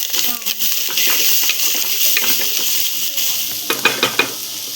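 Ivy gourd pieces fry in a pan for a chutney, a close, loud sizzle with stirring scrapes and a few sharp metallic clinks near the end.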